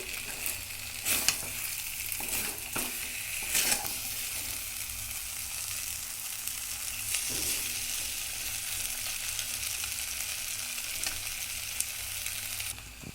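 Food fries in a wok as the last water cooks off. A continuous close sizzle is punctuated by several scraping stirs in the opening seconds, then settles into an even hiss with no talking.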